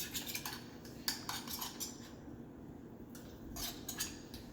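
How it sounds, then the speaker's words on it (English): Homemade jelly fruit being stirred and mashed in a bowl, giving a run of scraping and clinking utensil strokes at close range, irregular and fairly quiet, with no talking. "It's kind of hard, but you just gotta stir or something. Or you can just mash it."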